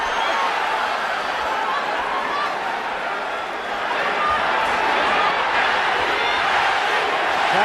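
Boxing arena crowd at a Manny Pacquiao versus Erik Morales fight, a dense roaring mass of voices swelling and chanting continuously, loud and broad, with an announcer's voice mixed underneath.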